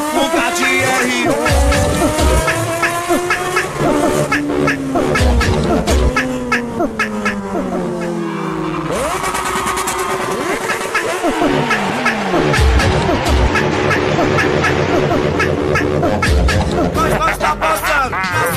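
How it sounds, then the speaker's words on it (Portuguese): A Yamaha R1 motorcycle rides down a street, its engine revving hard in rising and falling sweeps, loud and close throughout, with some background voices mixed in. "Nós tá passando nessa rua, dando fuga, ó o barulho do motor."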